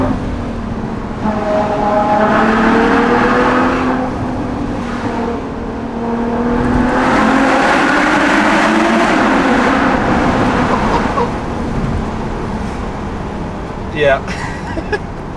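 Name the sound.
Ferrari FF naturally aspirated V12 engine revving on Susten Pass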